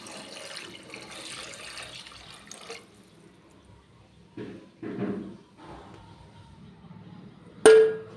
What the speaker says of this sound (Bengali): তো আমি জল দিয়ে নিলাম।